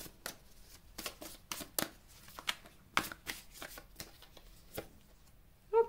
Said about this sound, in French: les cartes vont être agitées